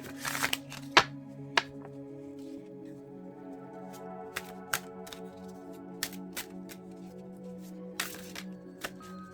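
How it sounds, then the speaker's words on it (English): Oracle cards are shuffled and riffled in short bursts with soft taps and flicks, quiet and close, with a low background hum and no voices. "I'm going to get the cards all situated up and give them a shuffle"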